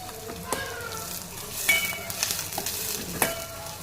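Onions sauté in a pan for rasam, crackling and sizzling with stirring scrapes and a few sharp pops over a low background hiss.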